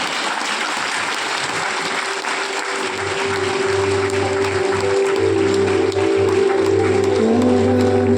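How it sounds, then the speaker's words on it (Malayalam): Audience applause fills a stage-event hall as a guest is welcomed up at a Malayalam community function; steady dense clapping runs throughout, with music joining in after about three seconds. "നിറഞ്ഞ കയ്യടിയോടെ"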